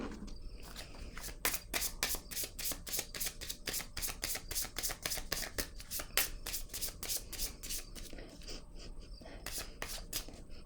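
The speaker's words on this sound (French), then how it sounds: "Je vais piger une autre carte." Tarot cards drawn and handled close up: a rapid series of crisp flicks and soft shuffling taps forming a steady rhythm, with quiet speech in the background.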